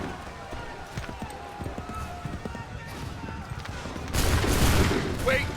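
Musket volleys ring out across the Battle of Bunker Hill in Assassin's Creed III Remastered, a crackling burst of massed gunfire that swells near the end over battlefield commotion, with shouted voices amid the din.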